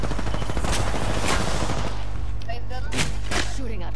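Dense rapid gunfire in a shooter video game, bursts of shots aimed at the player, loud and continuous with sharp louder cracks near the end.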